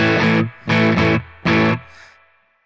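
Electric guitar through a tc electronic Ampworx Combo Deluxe 65 preamp with the reverb turned down, playing three loud distorted chord stabs that each cut off quickly, leaving only a short tail.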